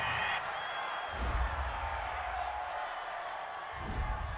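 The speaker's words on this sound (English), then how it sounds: "This home crowd, they're happy with that call." A home crowd at a Los Angeles Chargers versus Denver Broncos NFL football game roars and cheers after a call, a steady, broad wash of noise with louder surges, heard from the broadcast booth.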